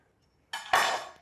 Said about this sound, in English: So basically what I'm gonna do is cut the neck off.